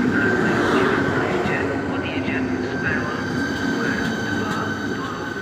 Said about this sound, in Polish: Wjeżdża pociąg osobowy relacji Ostawa Swinowczeski Cieszyn.